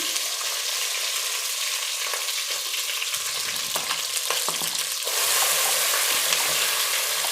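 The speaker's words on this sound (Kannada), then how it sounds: "ಈಗ ನಾನು ರುಬ್ಕೊಂಡಿರೋ ಮಸಾಲೆನ ಸೇರಿಸ್ತೀನಿ" Ground masala hits brinjal frying in oil, raising a steady, broadband sizzle that swells louder partway through, with occasional stirring clicks and scrapes close by and no voices.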